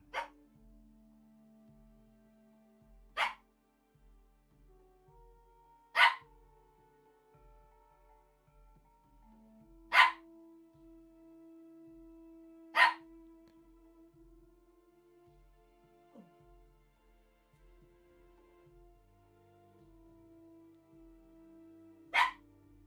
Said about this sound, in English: Tifa back there, barking up a storm